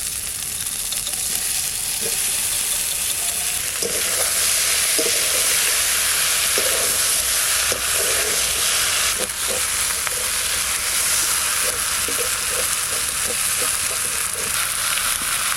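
River fish dropped into spiced masala in a hot pan fry with a loud, steady sizzle and hiss that runs throughout, broken by faint stirring clicks.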